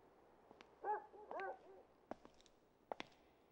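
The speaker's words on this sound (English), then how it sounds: "I only hear dogs." Dogs bark and yelp in a Persona 3 FES video game scene, a few short distant calls spaced apart, faint against a quiet background.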